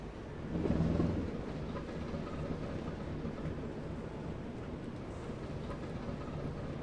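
A BR Class 08 shunter locomotive rolling downhill in the Train Sim World game, a steady low rumble of wheels on rails with a louder swell early on, no talking.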